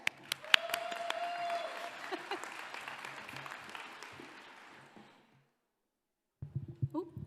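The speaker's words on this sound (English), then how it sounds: "please, big round of applause for Vicky Sinclair" Audience applause at a panel event on innovation and growth, a roomful of clapping that swells and then fades out after several seconds, followed by a pause and a few scattered sounds.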